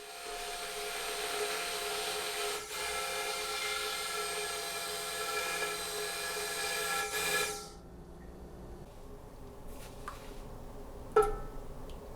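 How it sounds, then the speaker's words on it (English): An immersion blender purees red lentil soup of vegetables and broth, a steady whirring motor buzz for about seven seconds that then cuts off, followed by faint clinks. "use an immersion blender to combine the vegetables and the broth into one homogeneous mixture"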